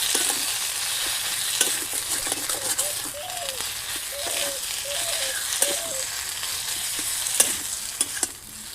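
Spiced mashed potato filling with turmeric, salt, coriander and cumin powder being stirred in a pan for pumpkin-leaf rolls, a steady sizzle with repeated scraping strokes of the spoon throughout.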